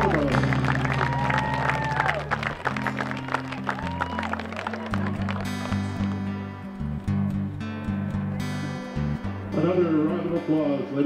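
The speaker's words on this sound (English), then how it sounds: "Another round of applause, ladies and gentlemen, boys and girls, for all the seniors here on senior day." Spectators applaud at a college football senior day game between Grand View and Iowa Wesleyan, with the clapping and crowd noise running under music and a public-address announcer.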